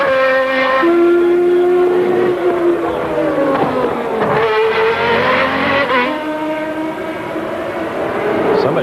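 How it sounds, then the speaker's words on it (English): Formula 1 car engine held at the rev limiter at the 1992 Australian Grand Prix in Adelaide: a loud, sustained high-pitched engine wail with wavering pitch, fairly close, filling the whole stretch. "Somebody right on the rev limiter might be Gerhard Berger."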